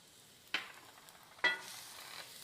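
Finely minced garlic dropped into a large skillet sets off a soft sizzle, with two quiet bursts of frying close by and then a low, steady hiss.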